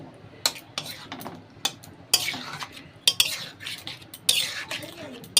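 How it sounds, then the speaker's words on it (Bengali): A utensil stirs rohu fish curry made with mustard paste and ripe mango in a pot, giving close, loud metallic scrapes and clinks in irregular bursts over a faint simmering sizzle. "দিয়ে একটু নাড়াচাড়া করে আমি কিন্তু এটা নামিয়ে নেব।"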